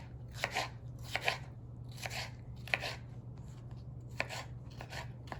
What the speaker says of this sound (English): And then cut into strips